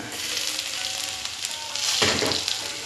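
Minced garlic and ginger crackle steadily in plenty of hot cooking oil, a loud continuous sizzle that swells briefly as they are stirred, with no talking.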